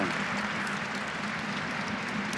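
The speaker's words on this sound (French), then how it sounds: "Les applaudissements, évidemment, au Groupama Stadium pour Maureen Cosson." Steady, dense applause from a large stadium crowd at the Groupama Stadium during a women's football semi-final, Lyon vs Nantes, loud and unbroken throughout.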